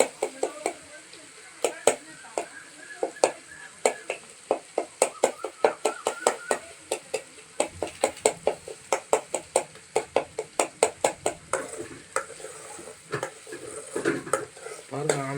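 Onions and tomatoes sautéing in a pan for a village-style lake fish curry, with rapid, rhythmic spoon-against-pan scraping strokes over a soft sizzle that quickens and grows busier toward the end.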